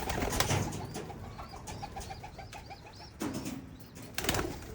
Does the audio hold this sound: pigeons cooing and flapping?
yes